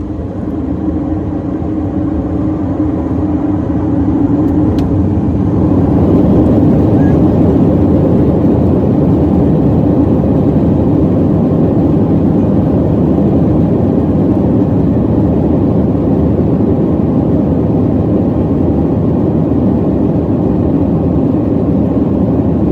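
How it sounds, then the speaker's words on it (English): A Delta Airlines Airbus A321 takes off from Tampa, heard from inside the cabin as a low engine hum that swells after a few seconds into a loud, steady roar and holds without letup. "for now, enjoy this takeoff."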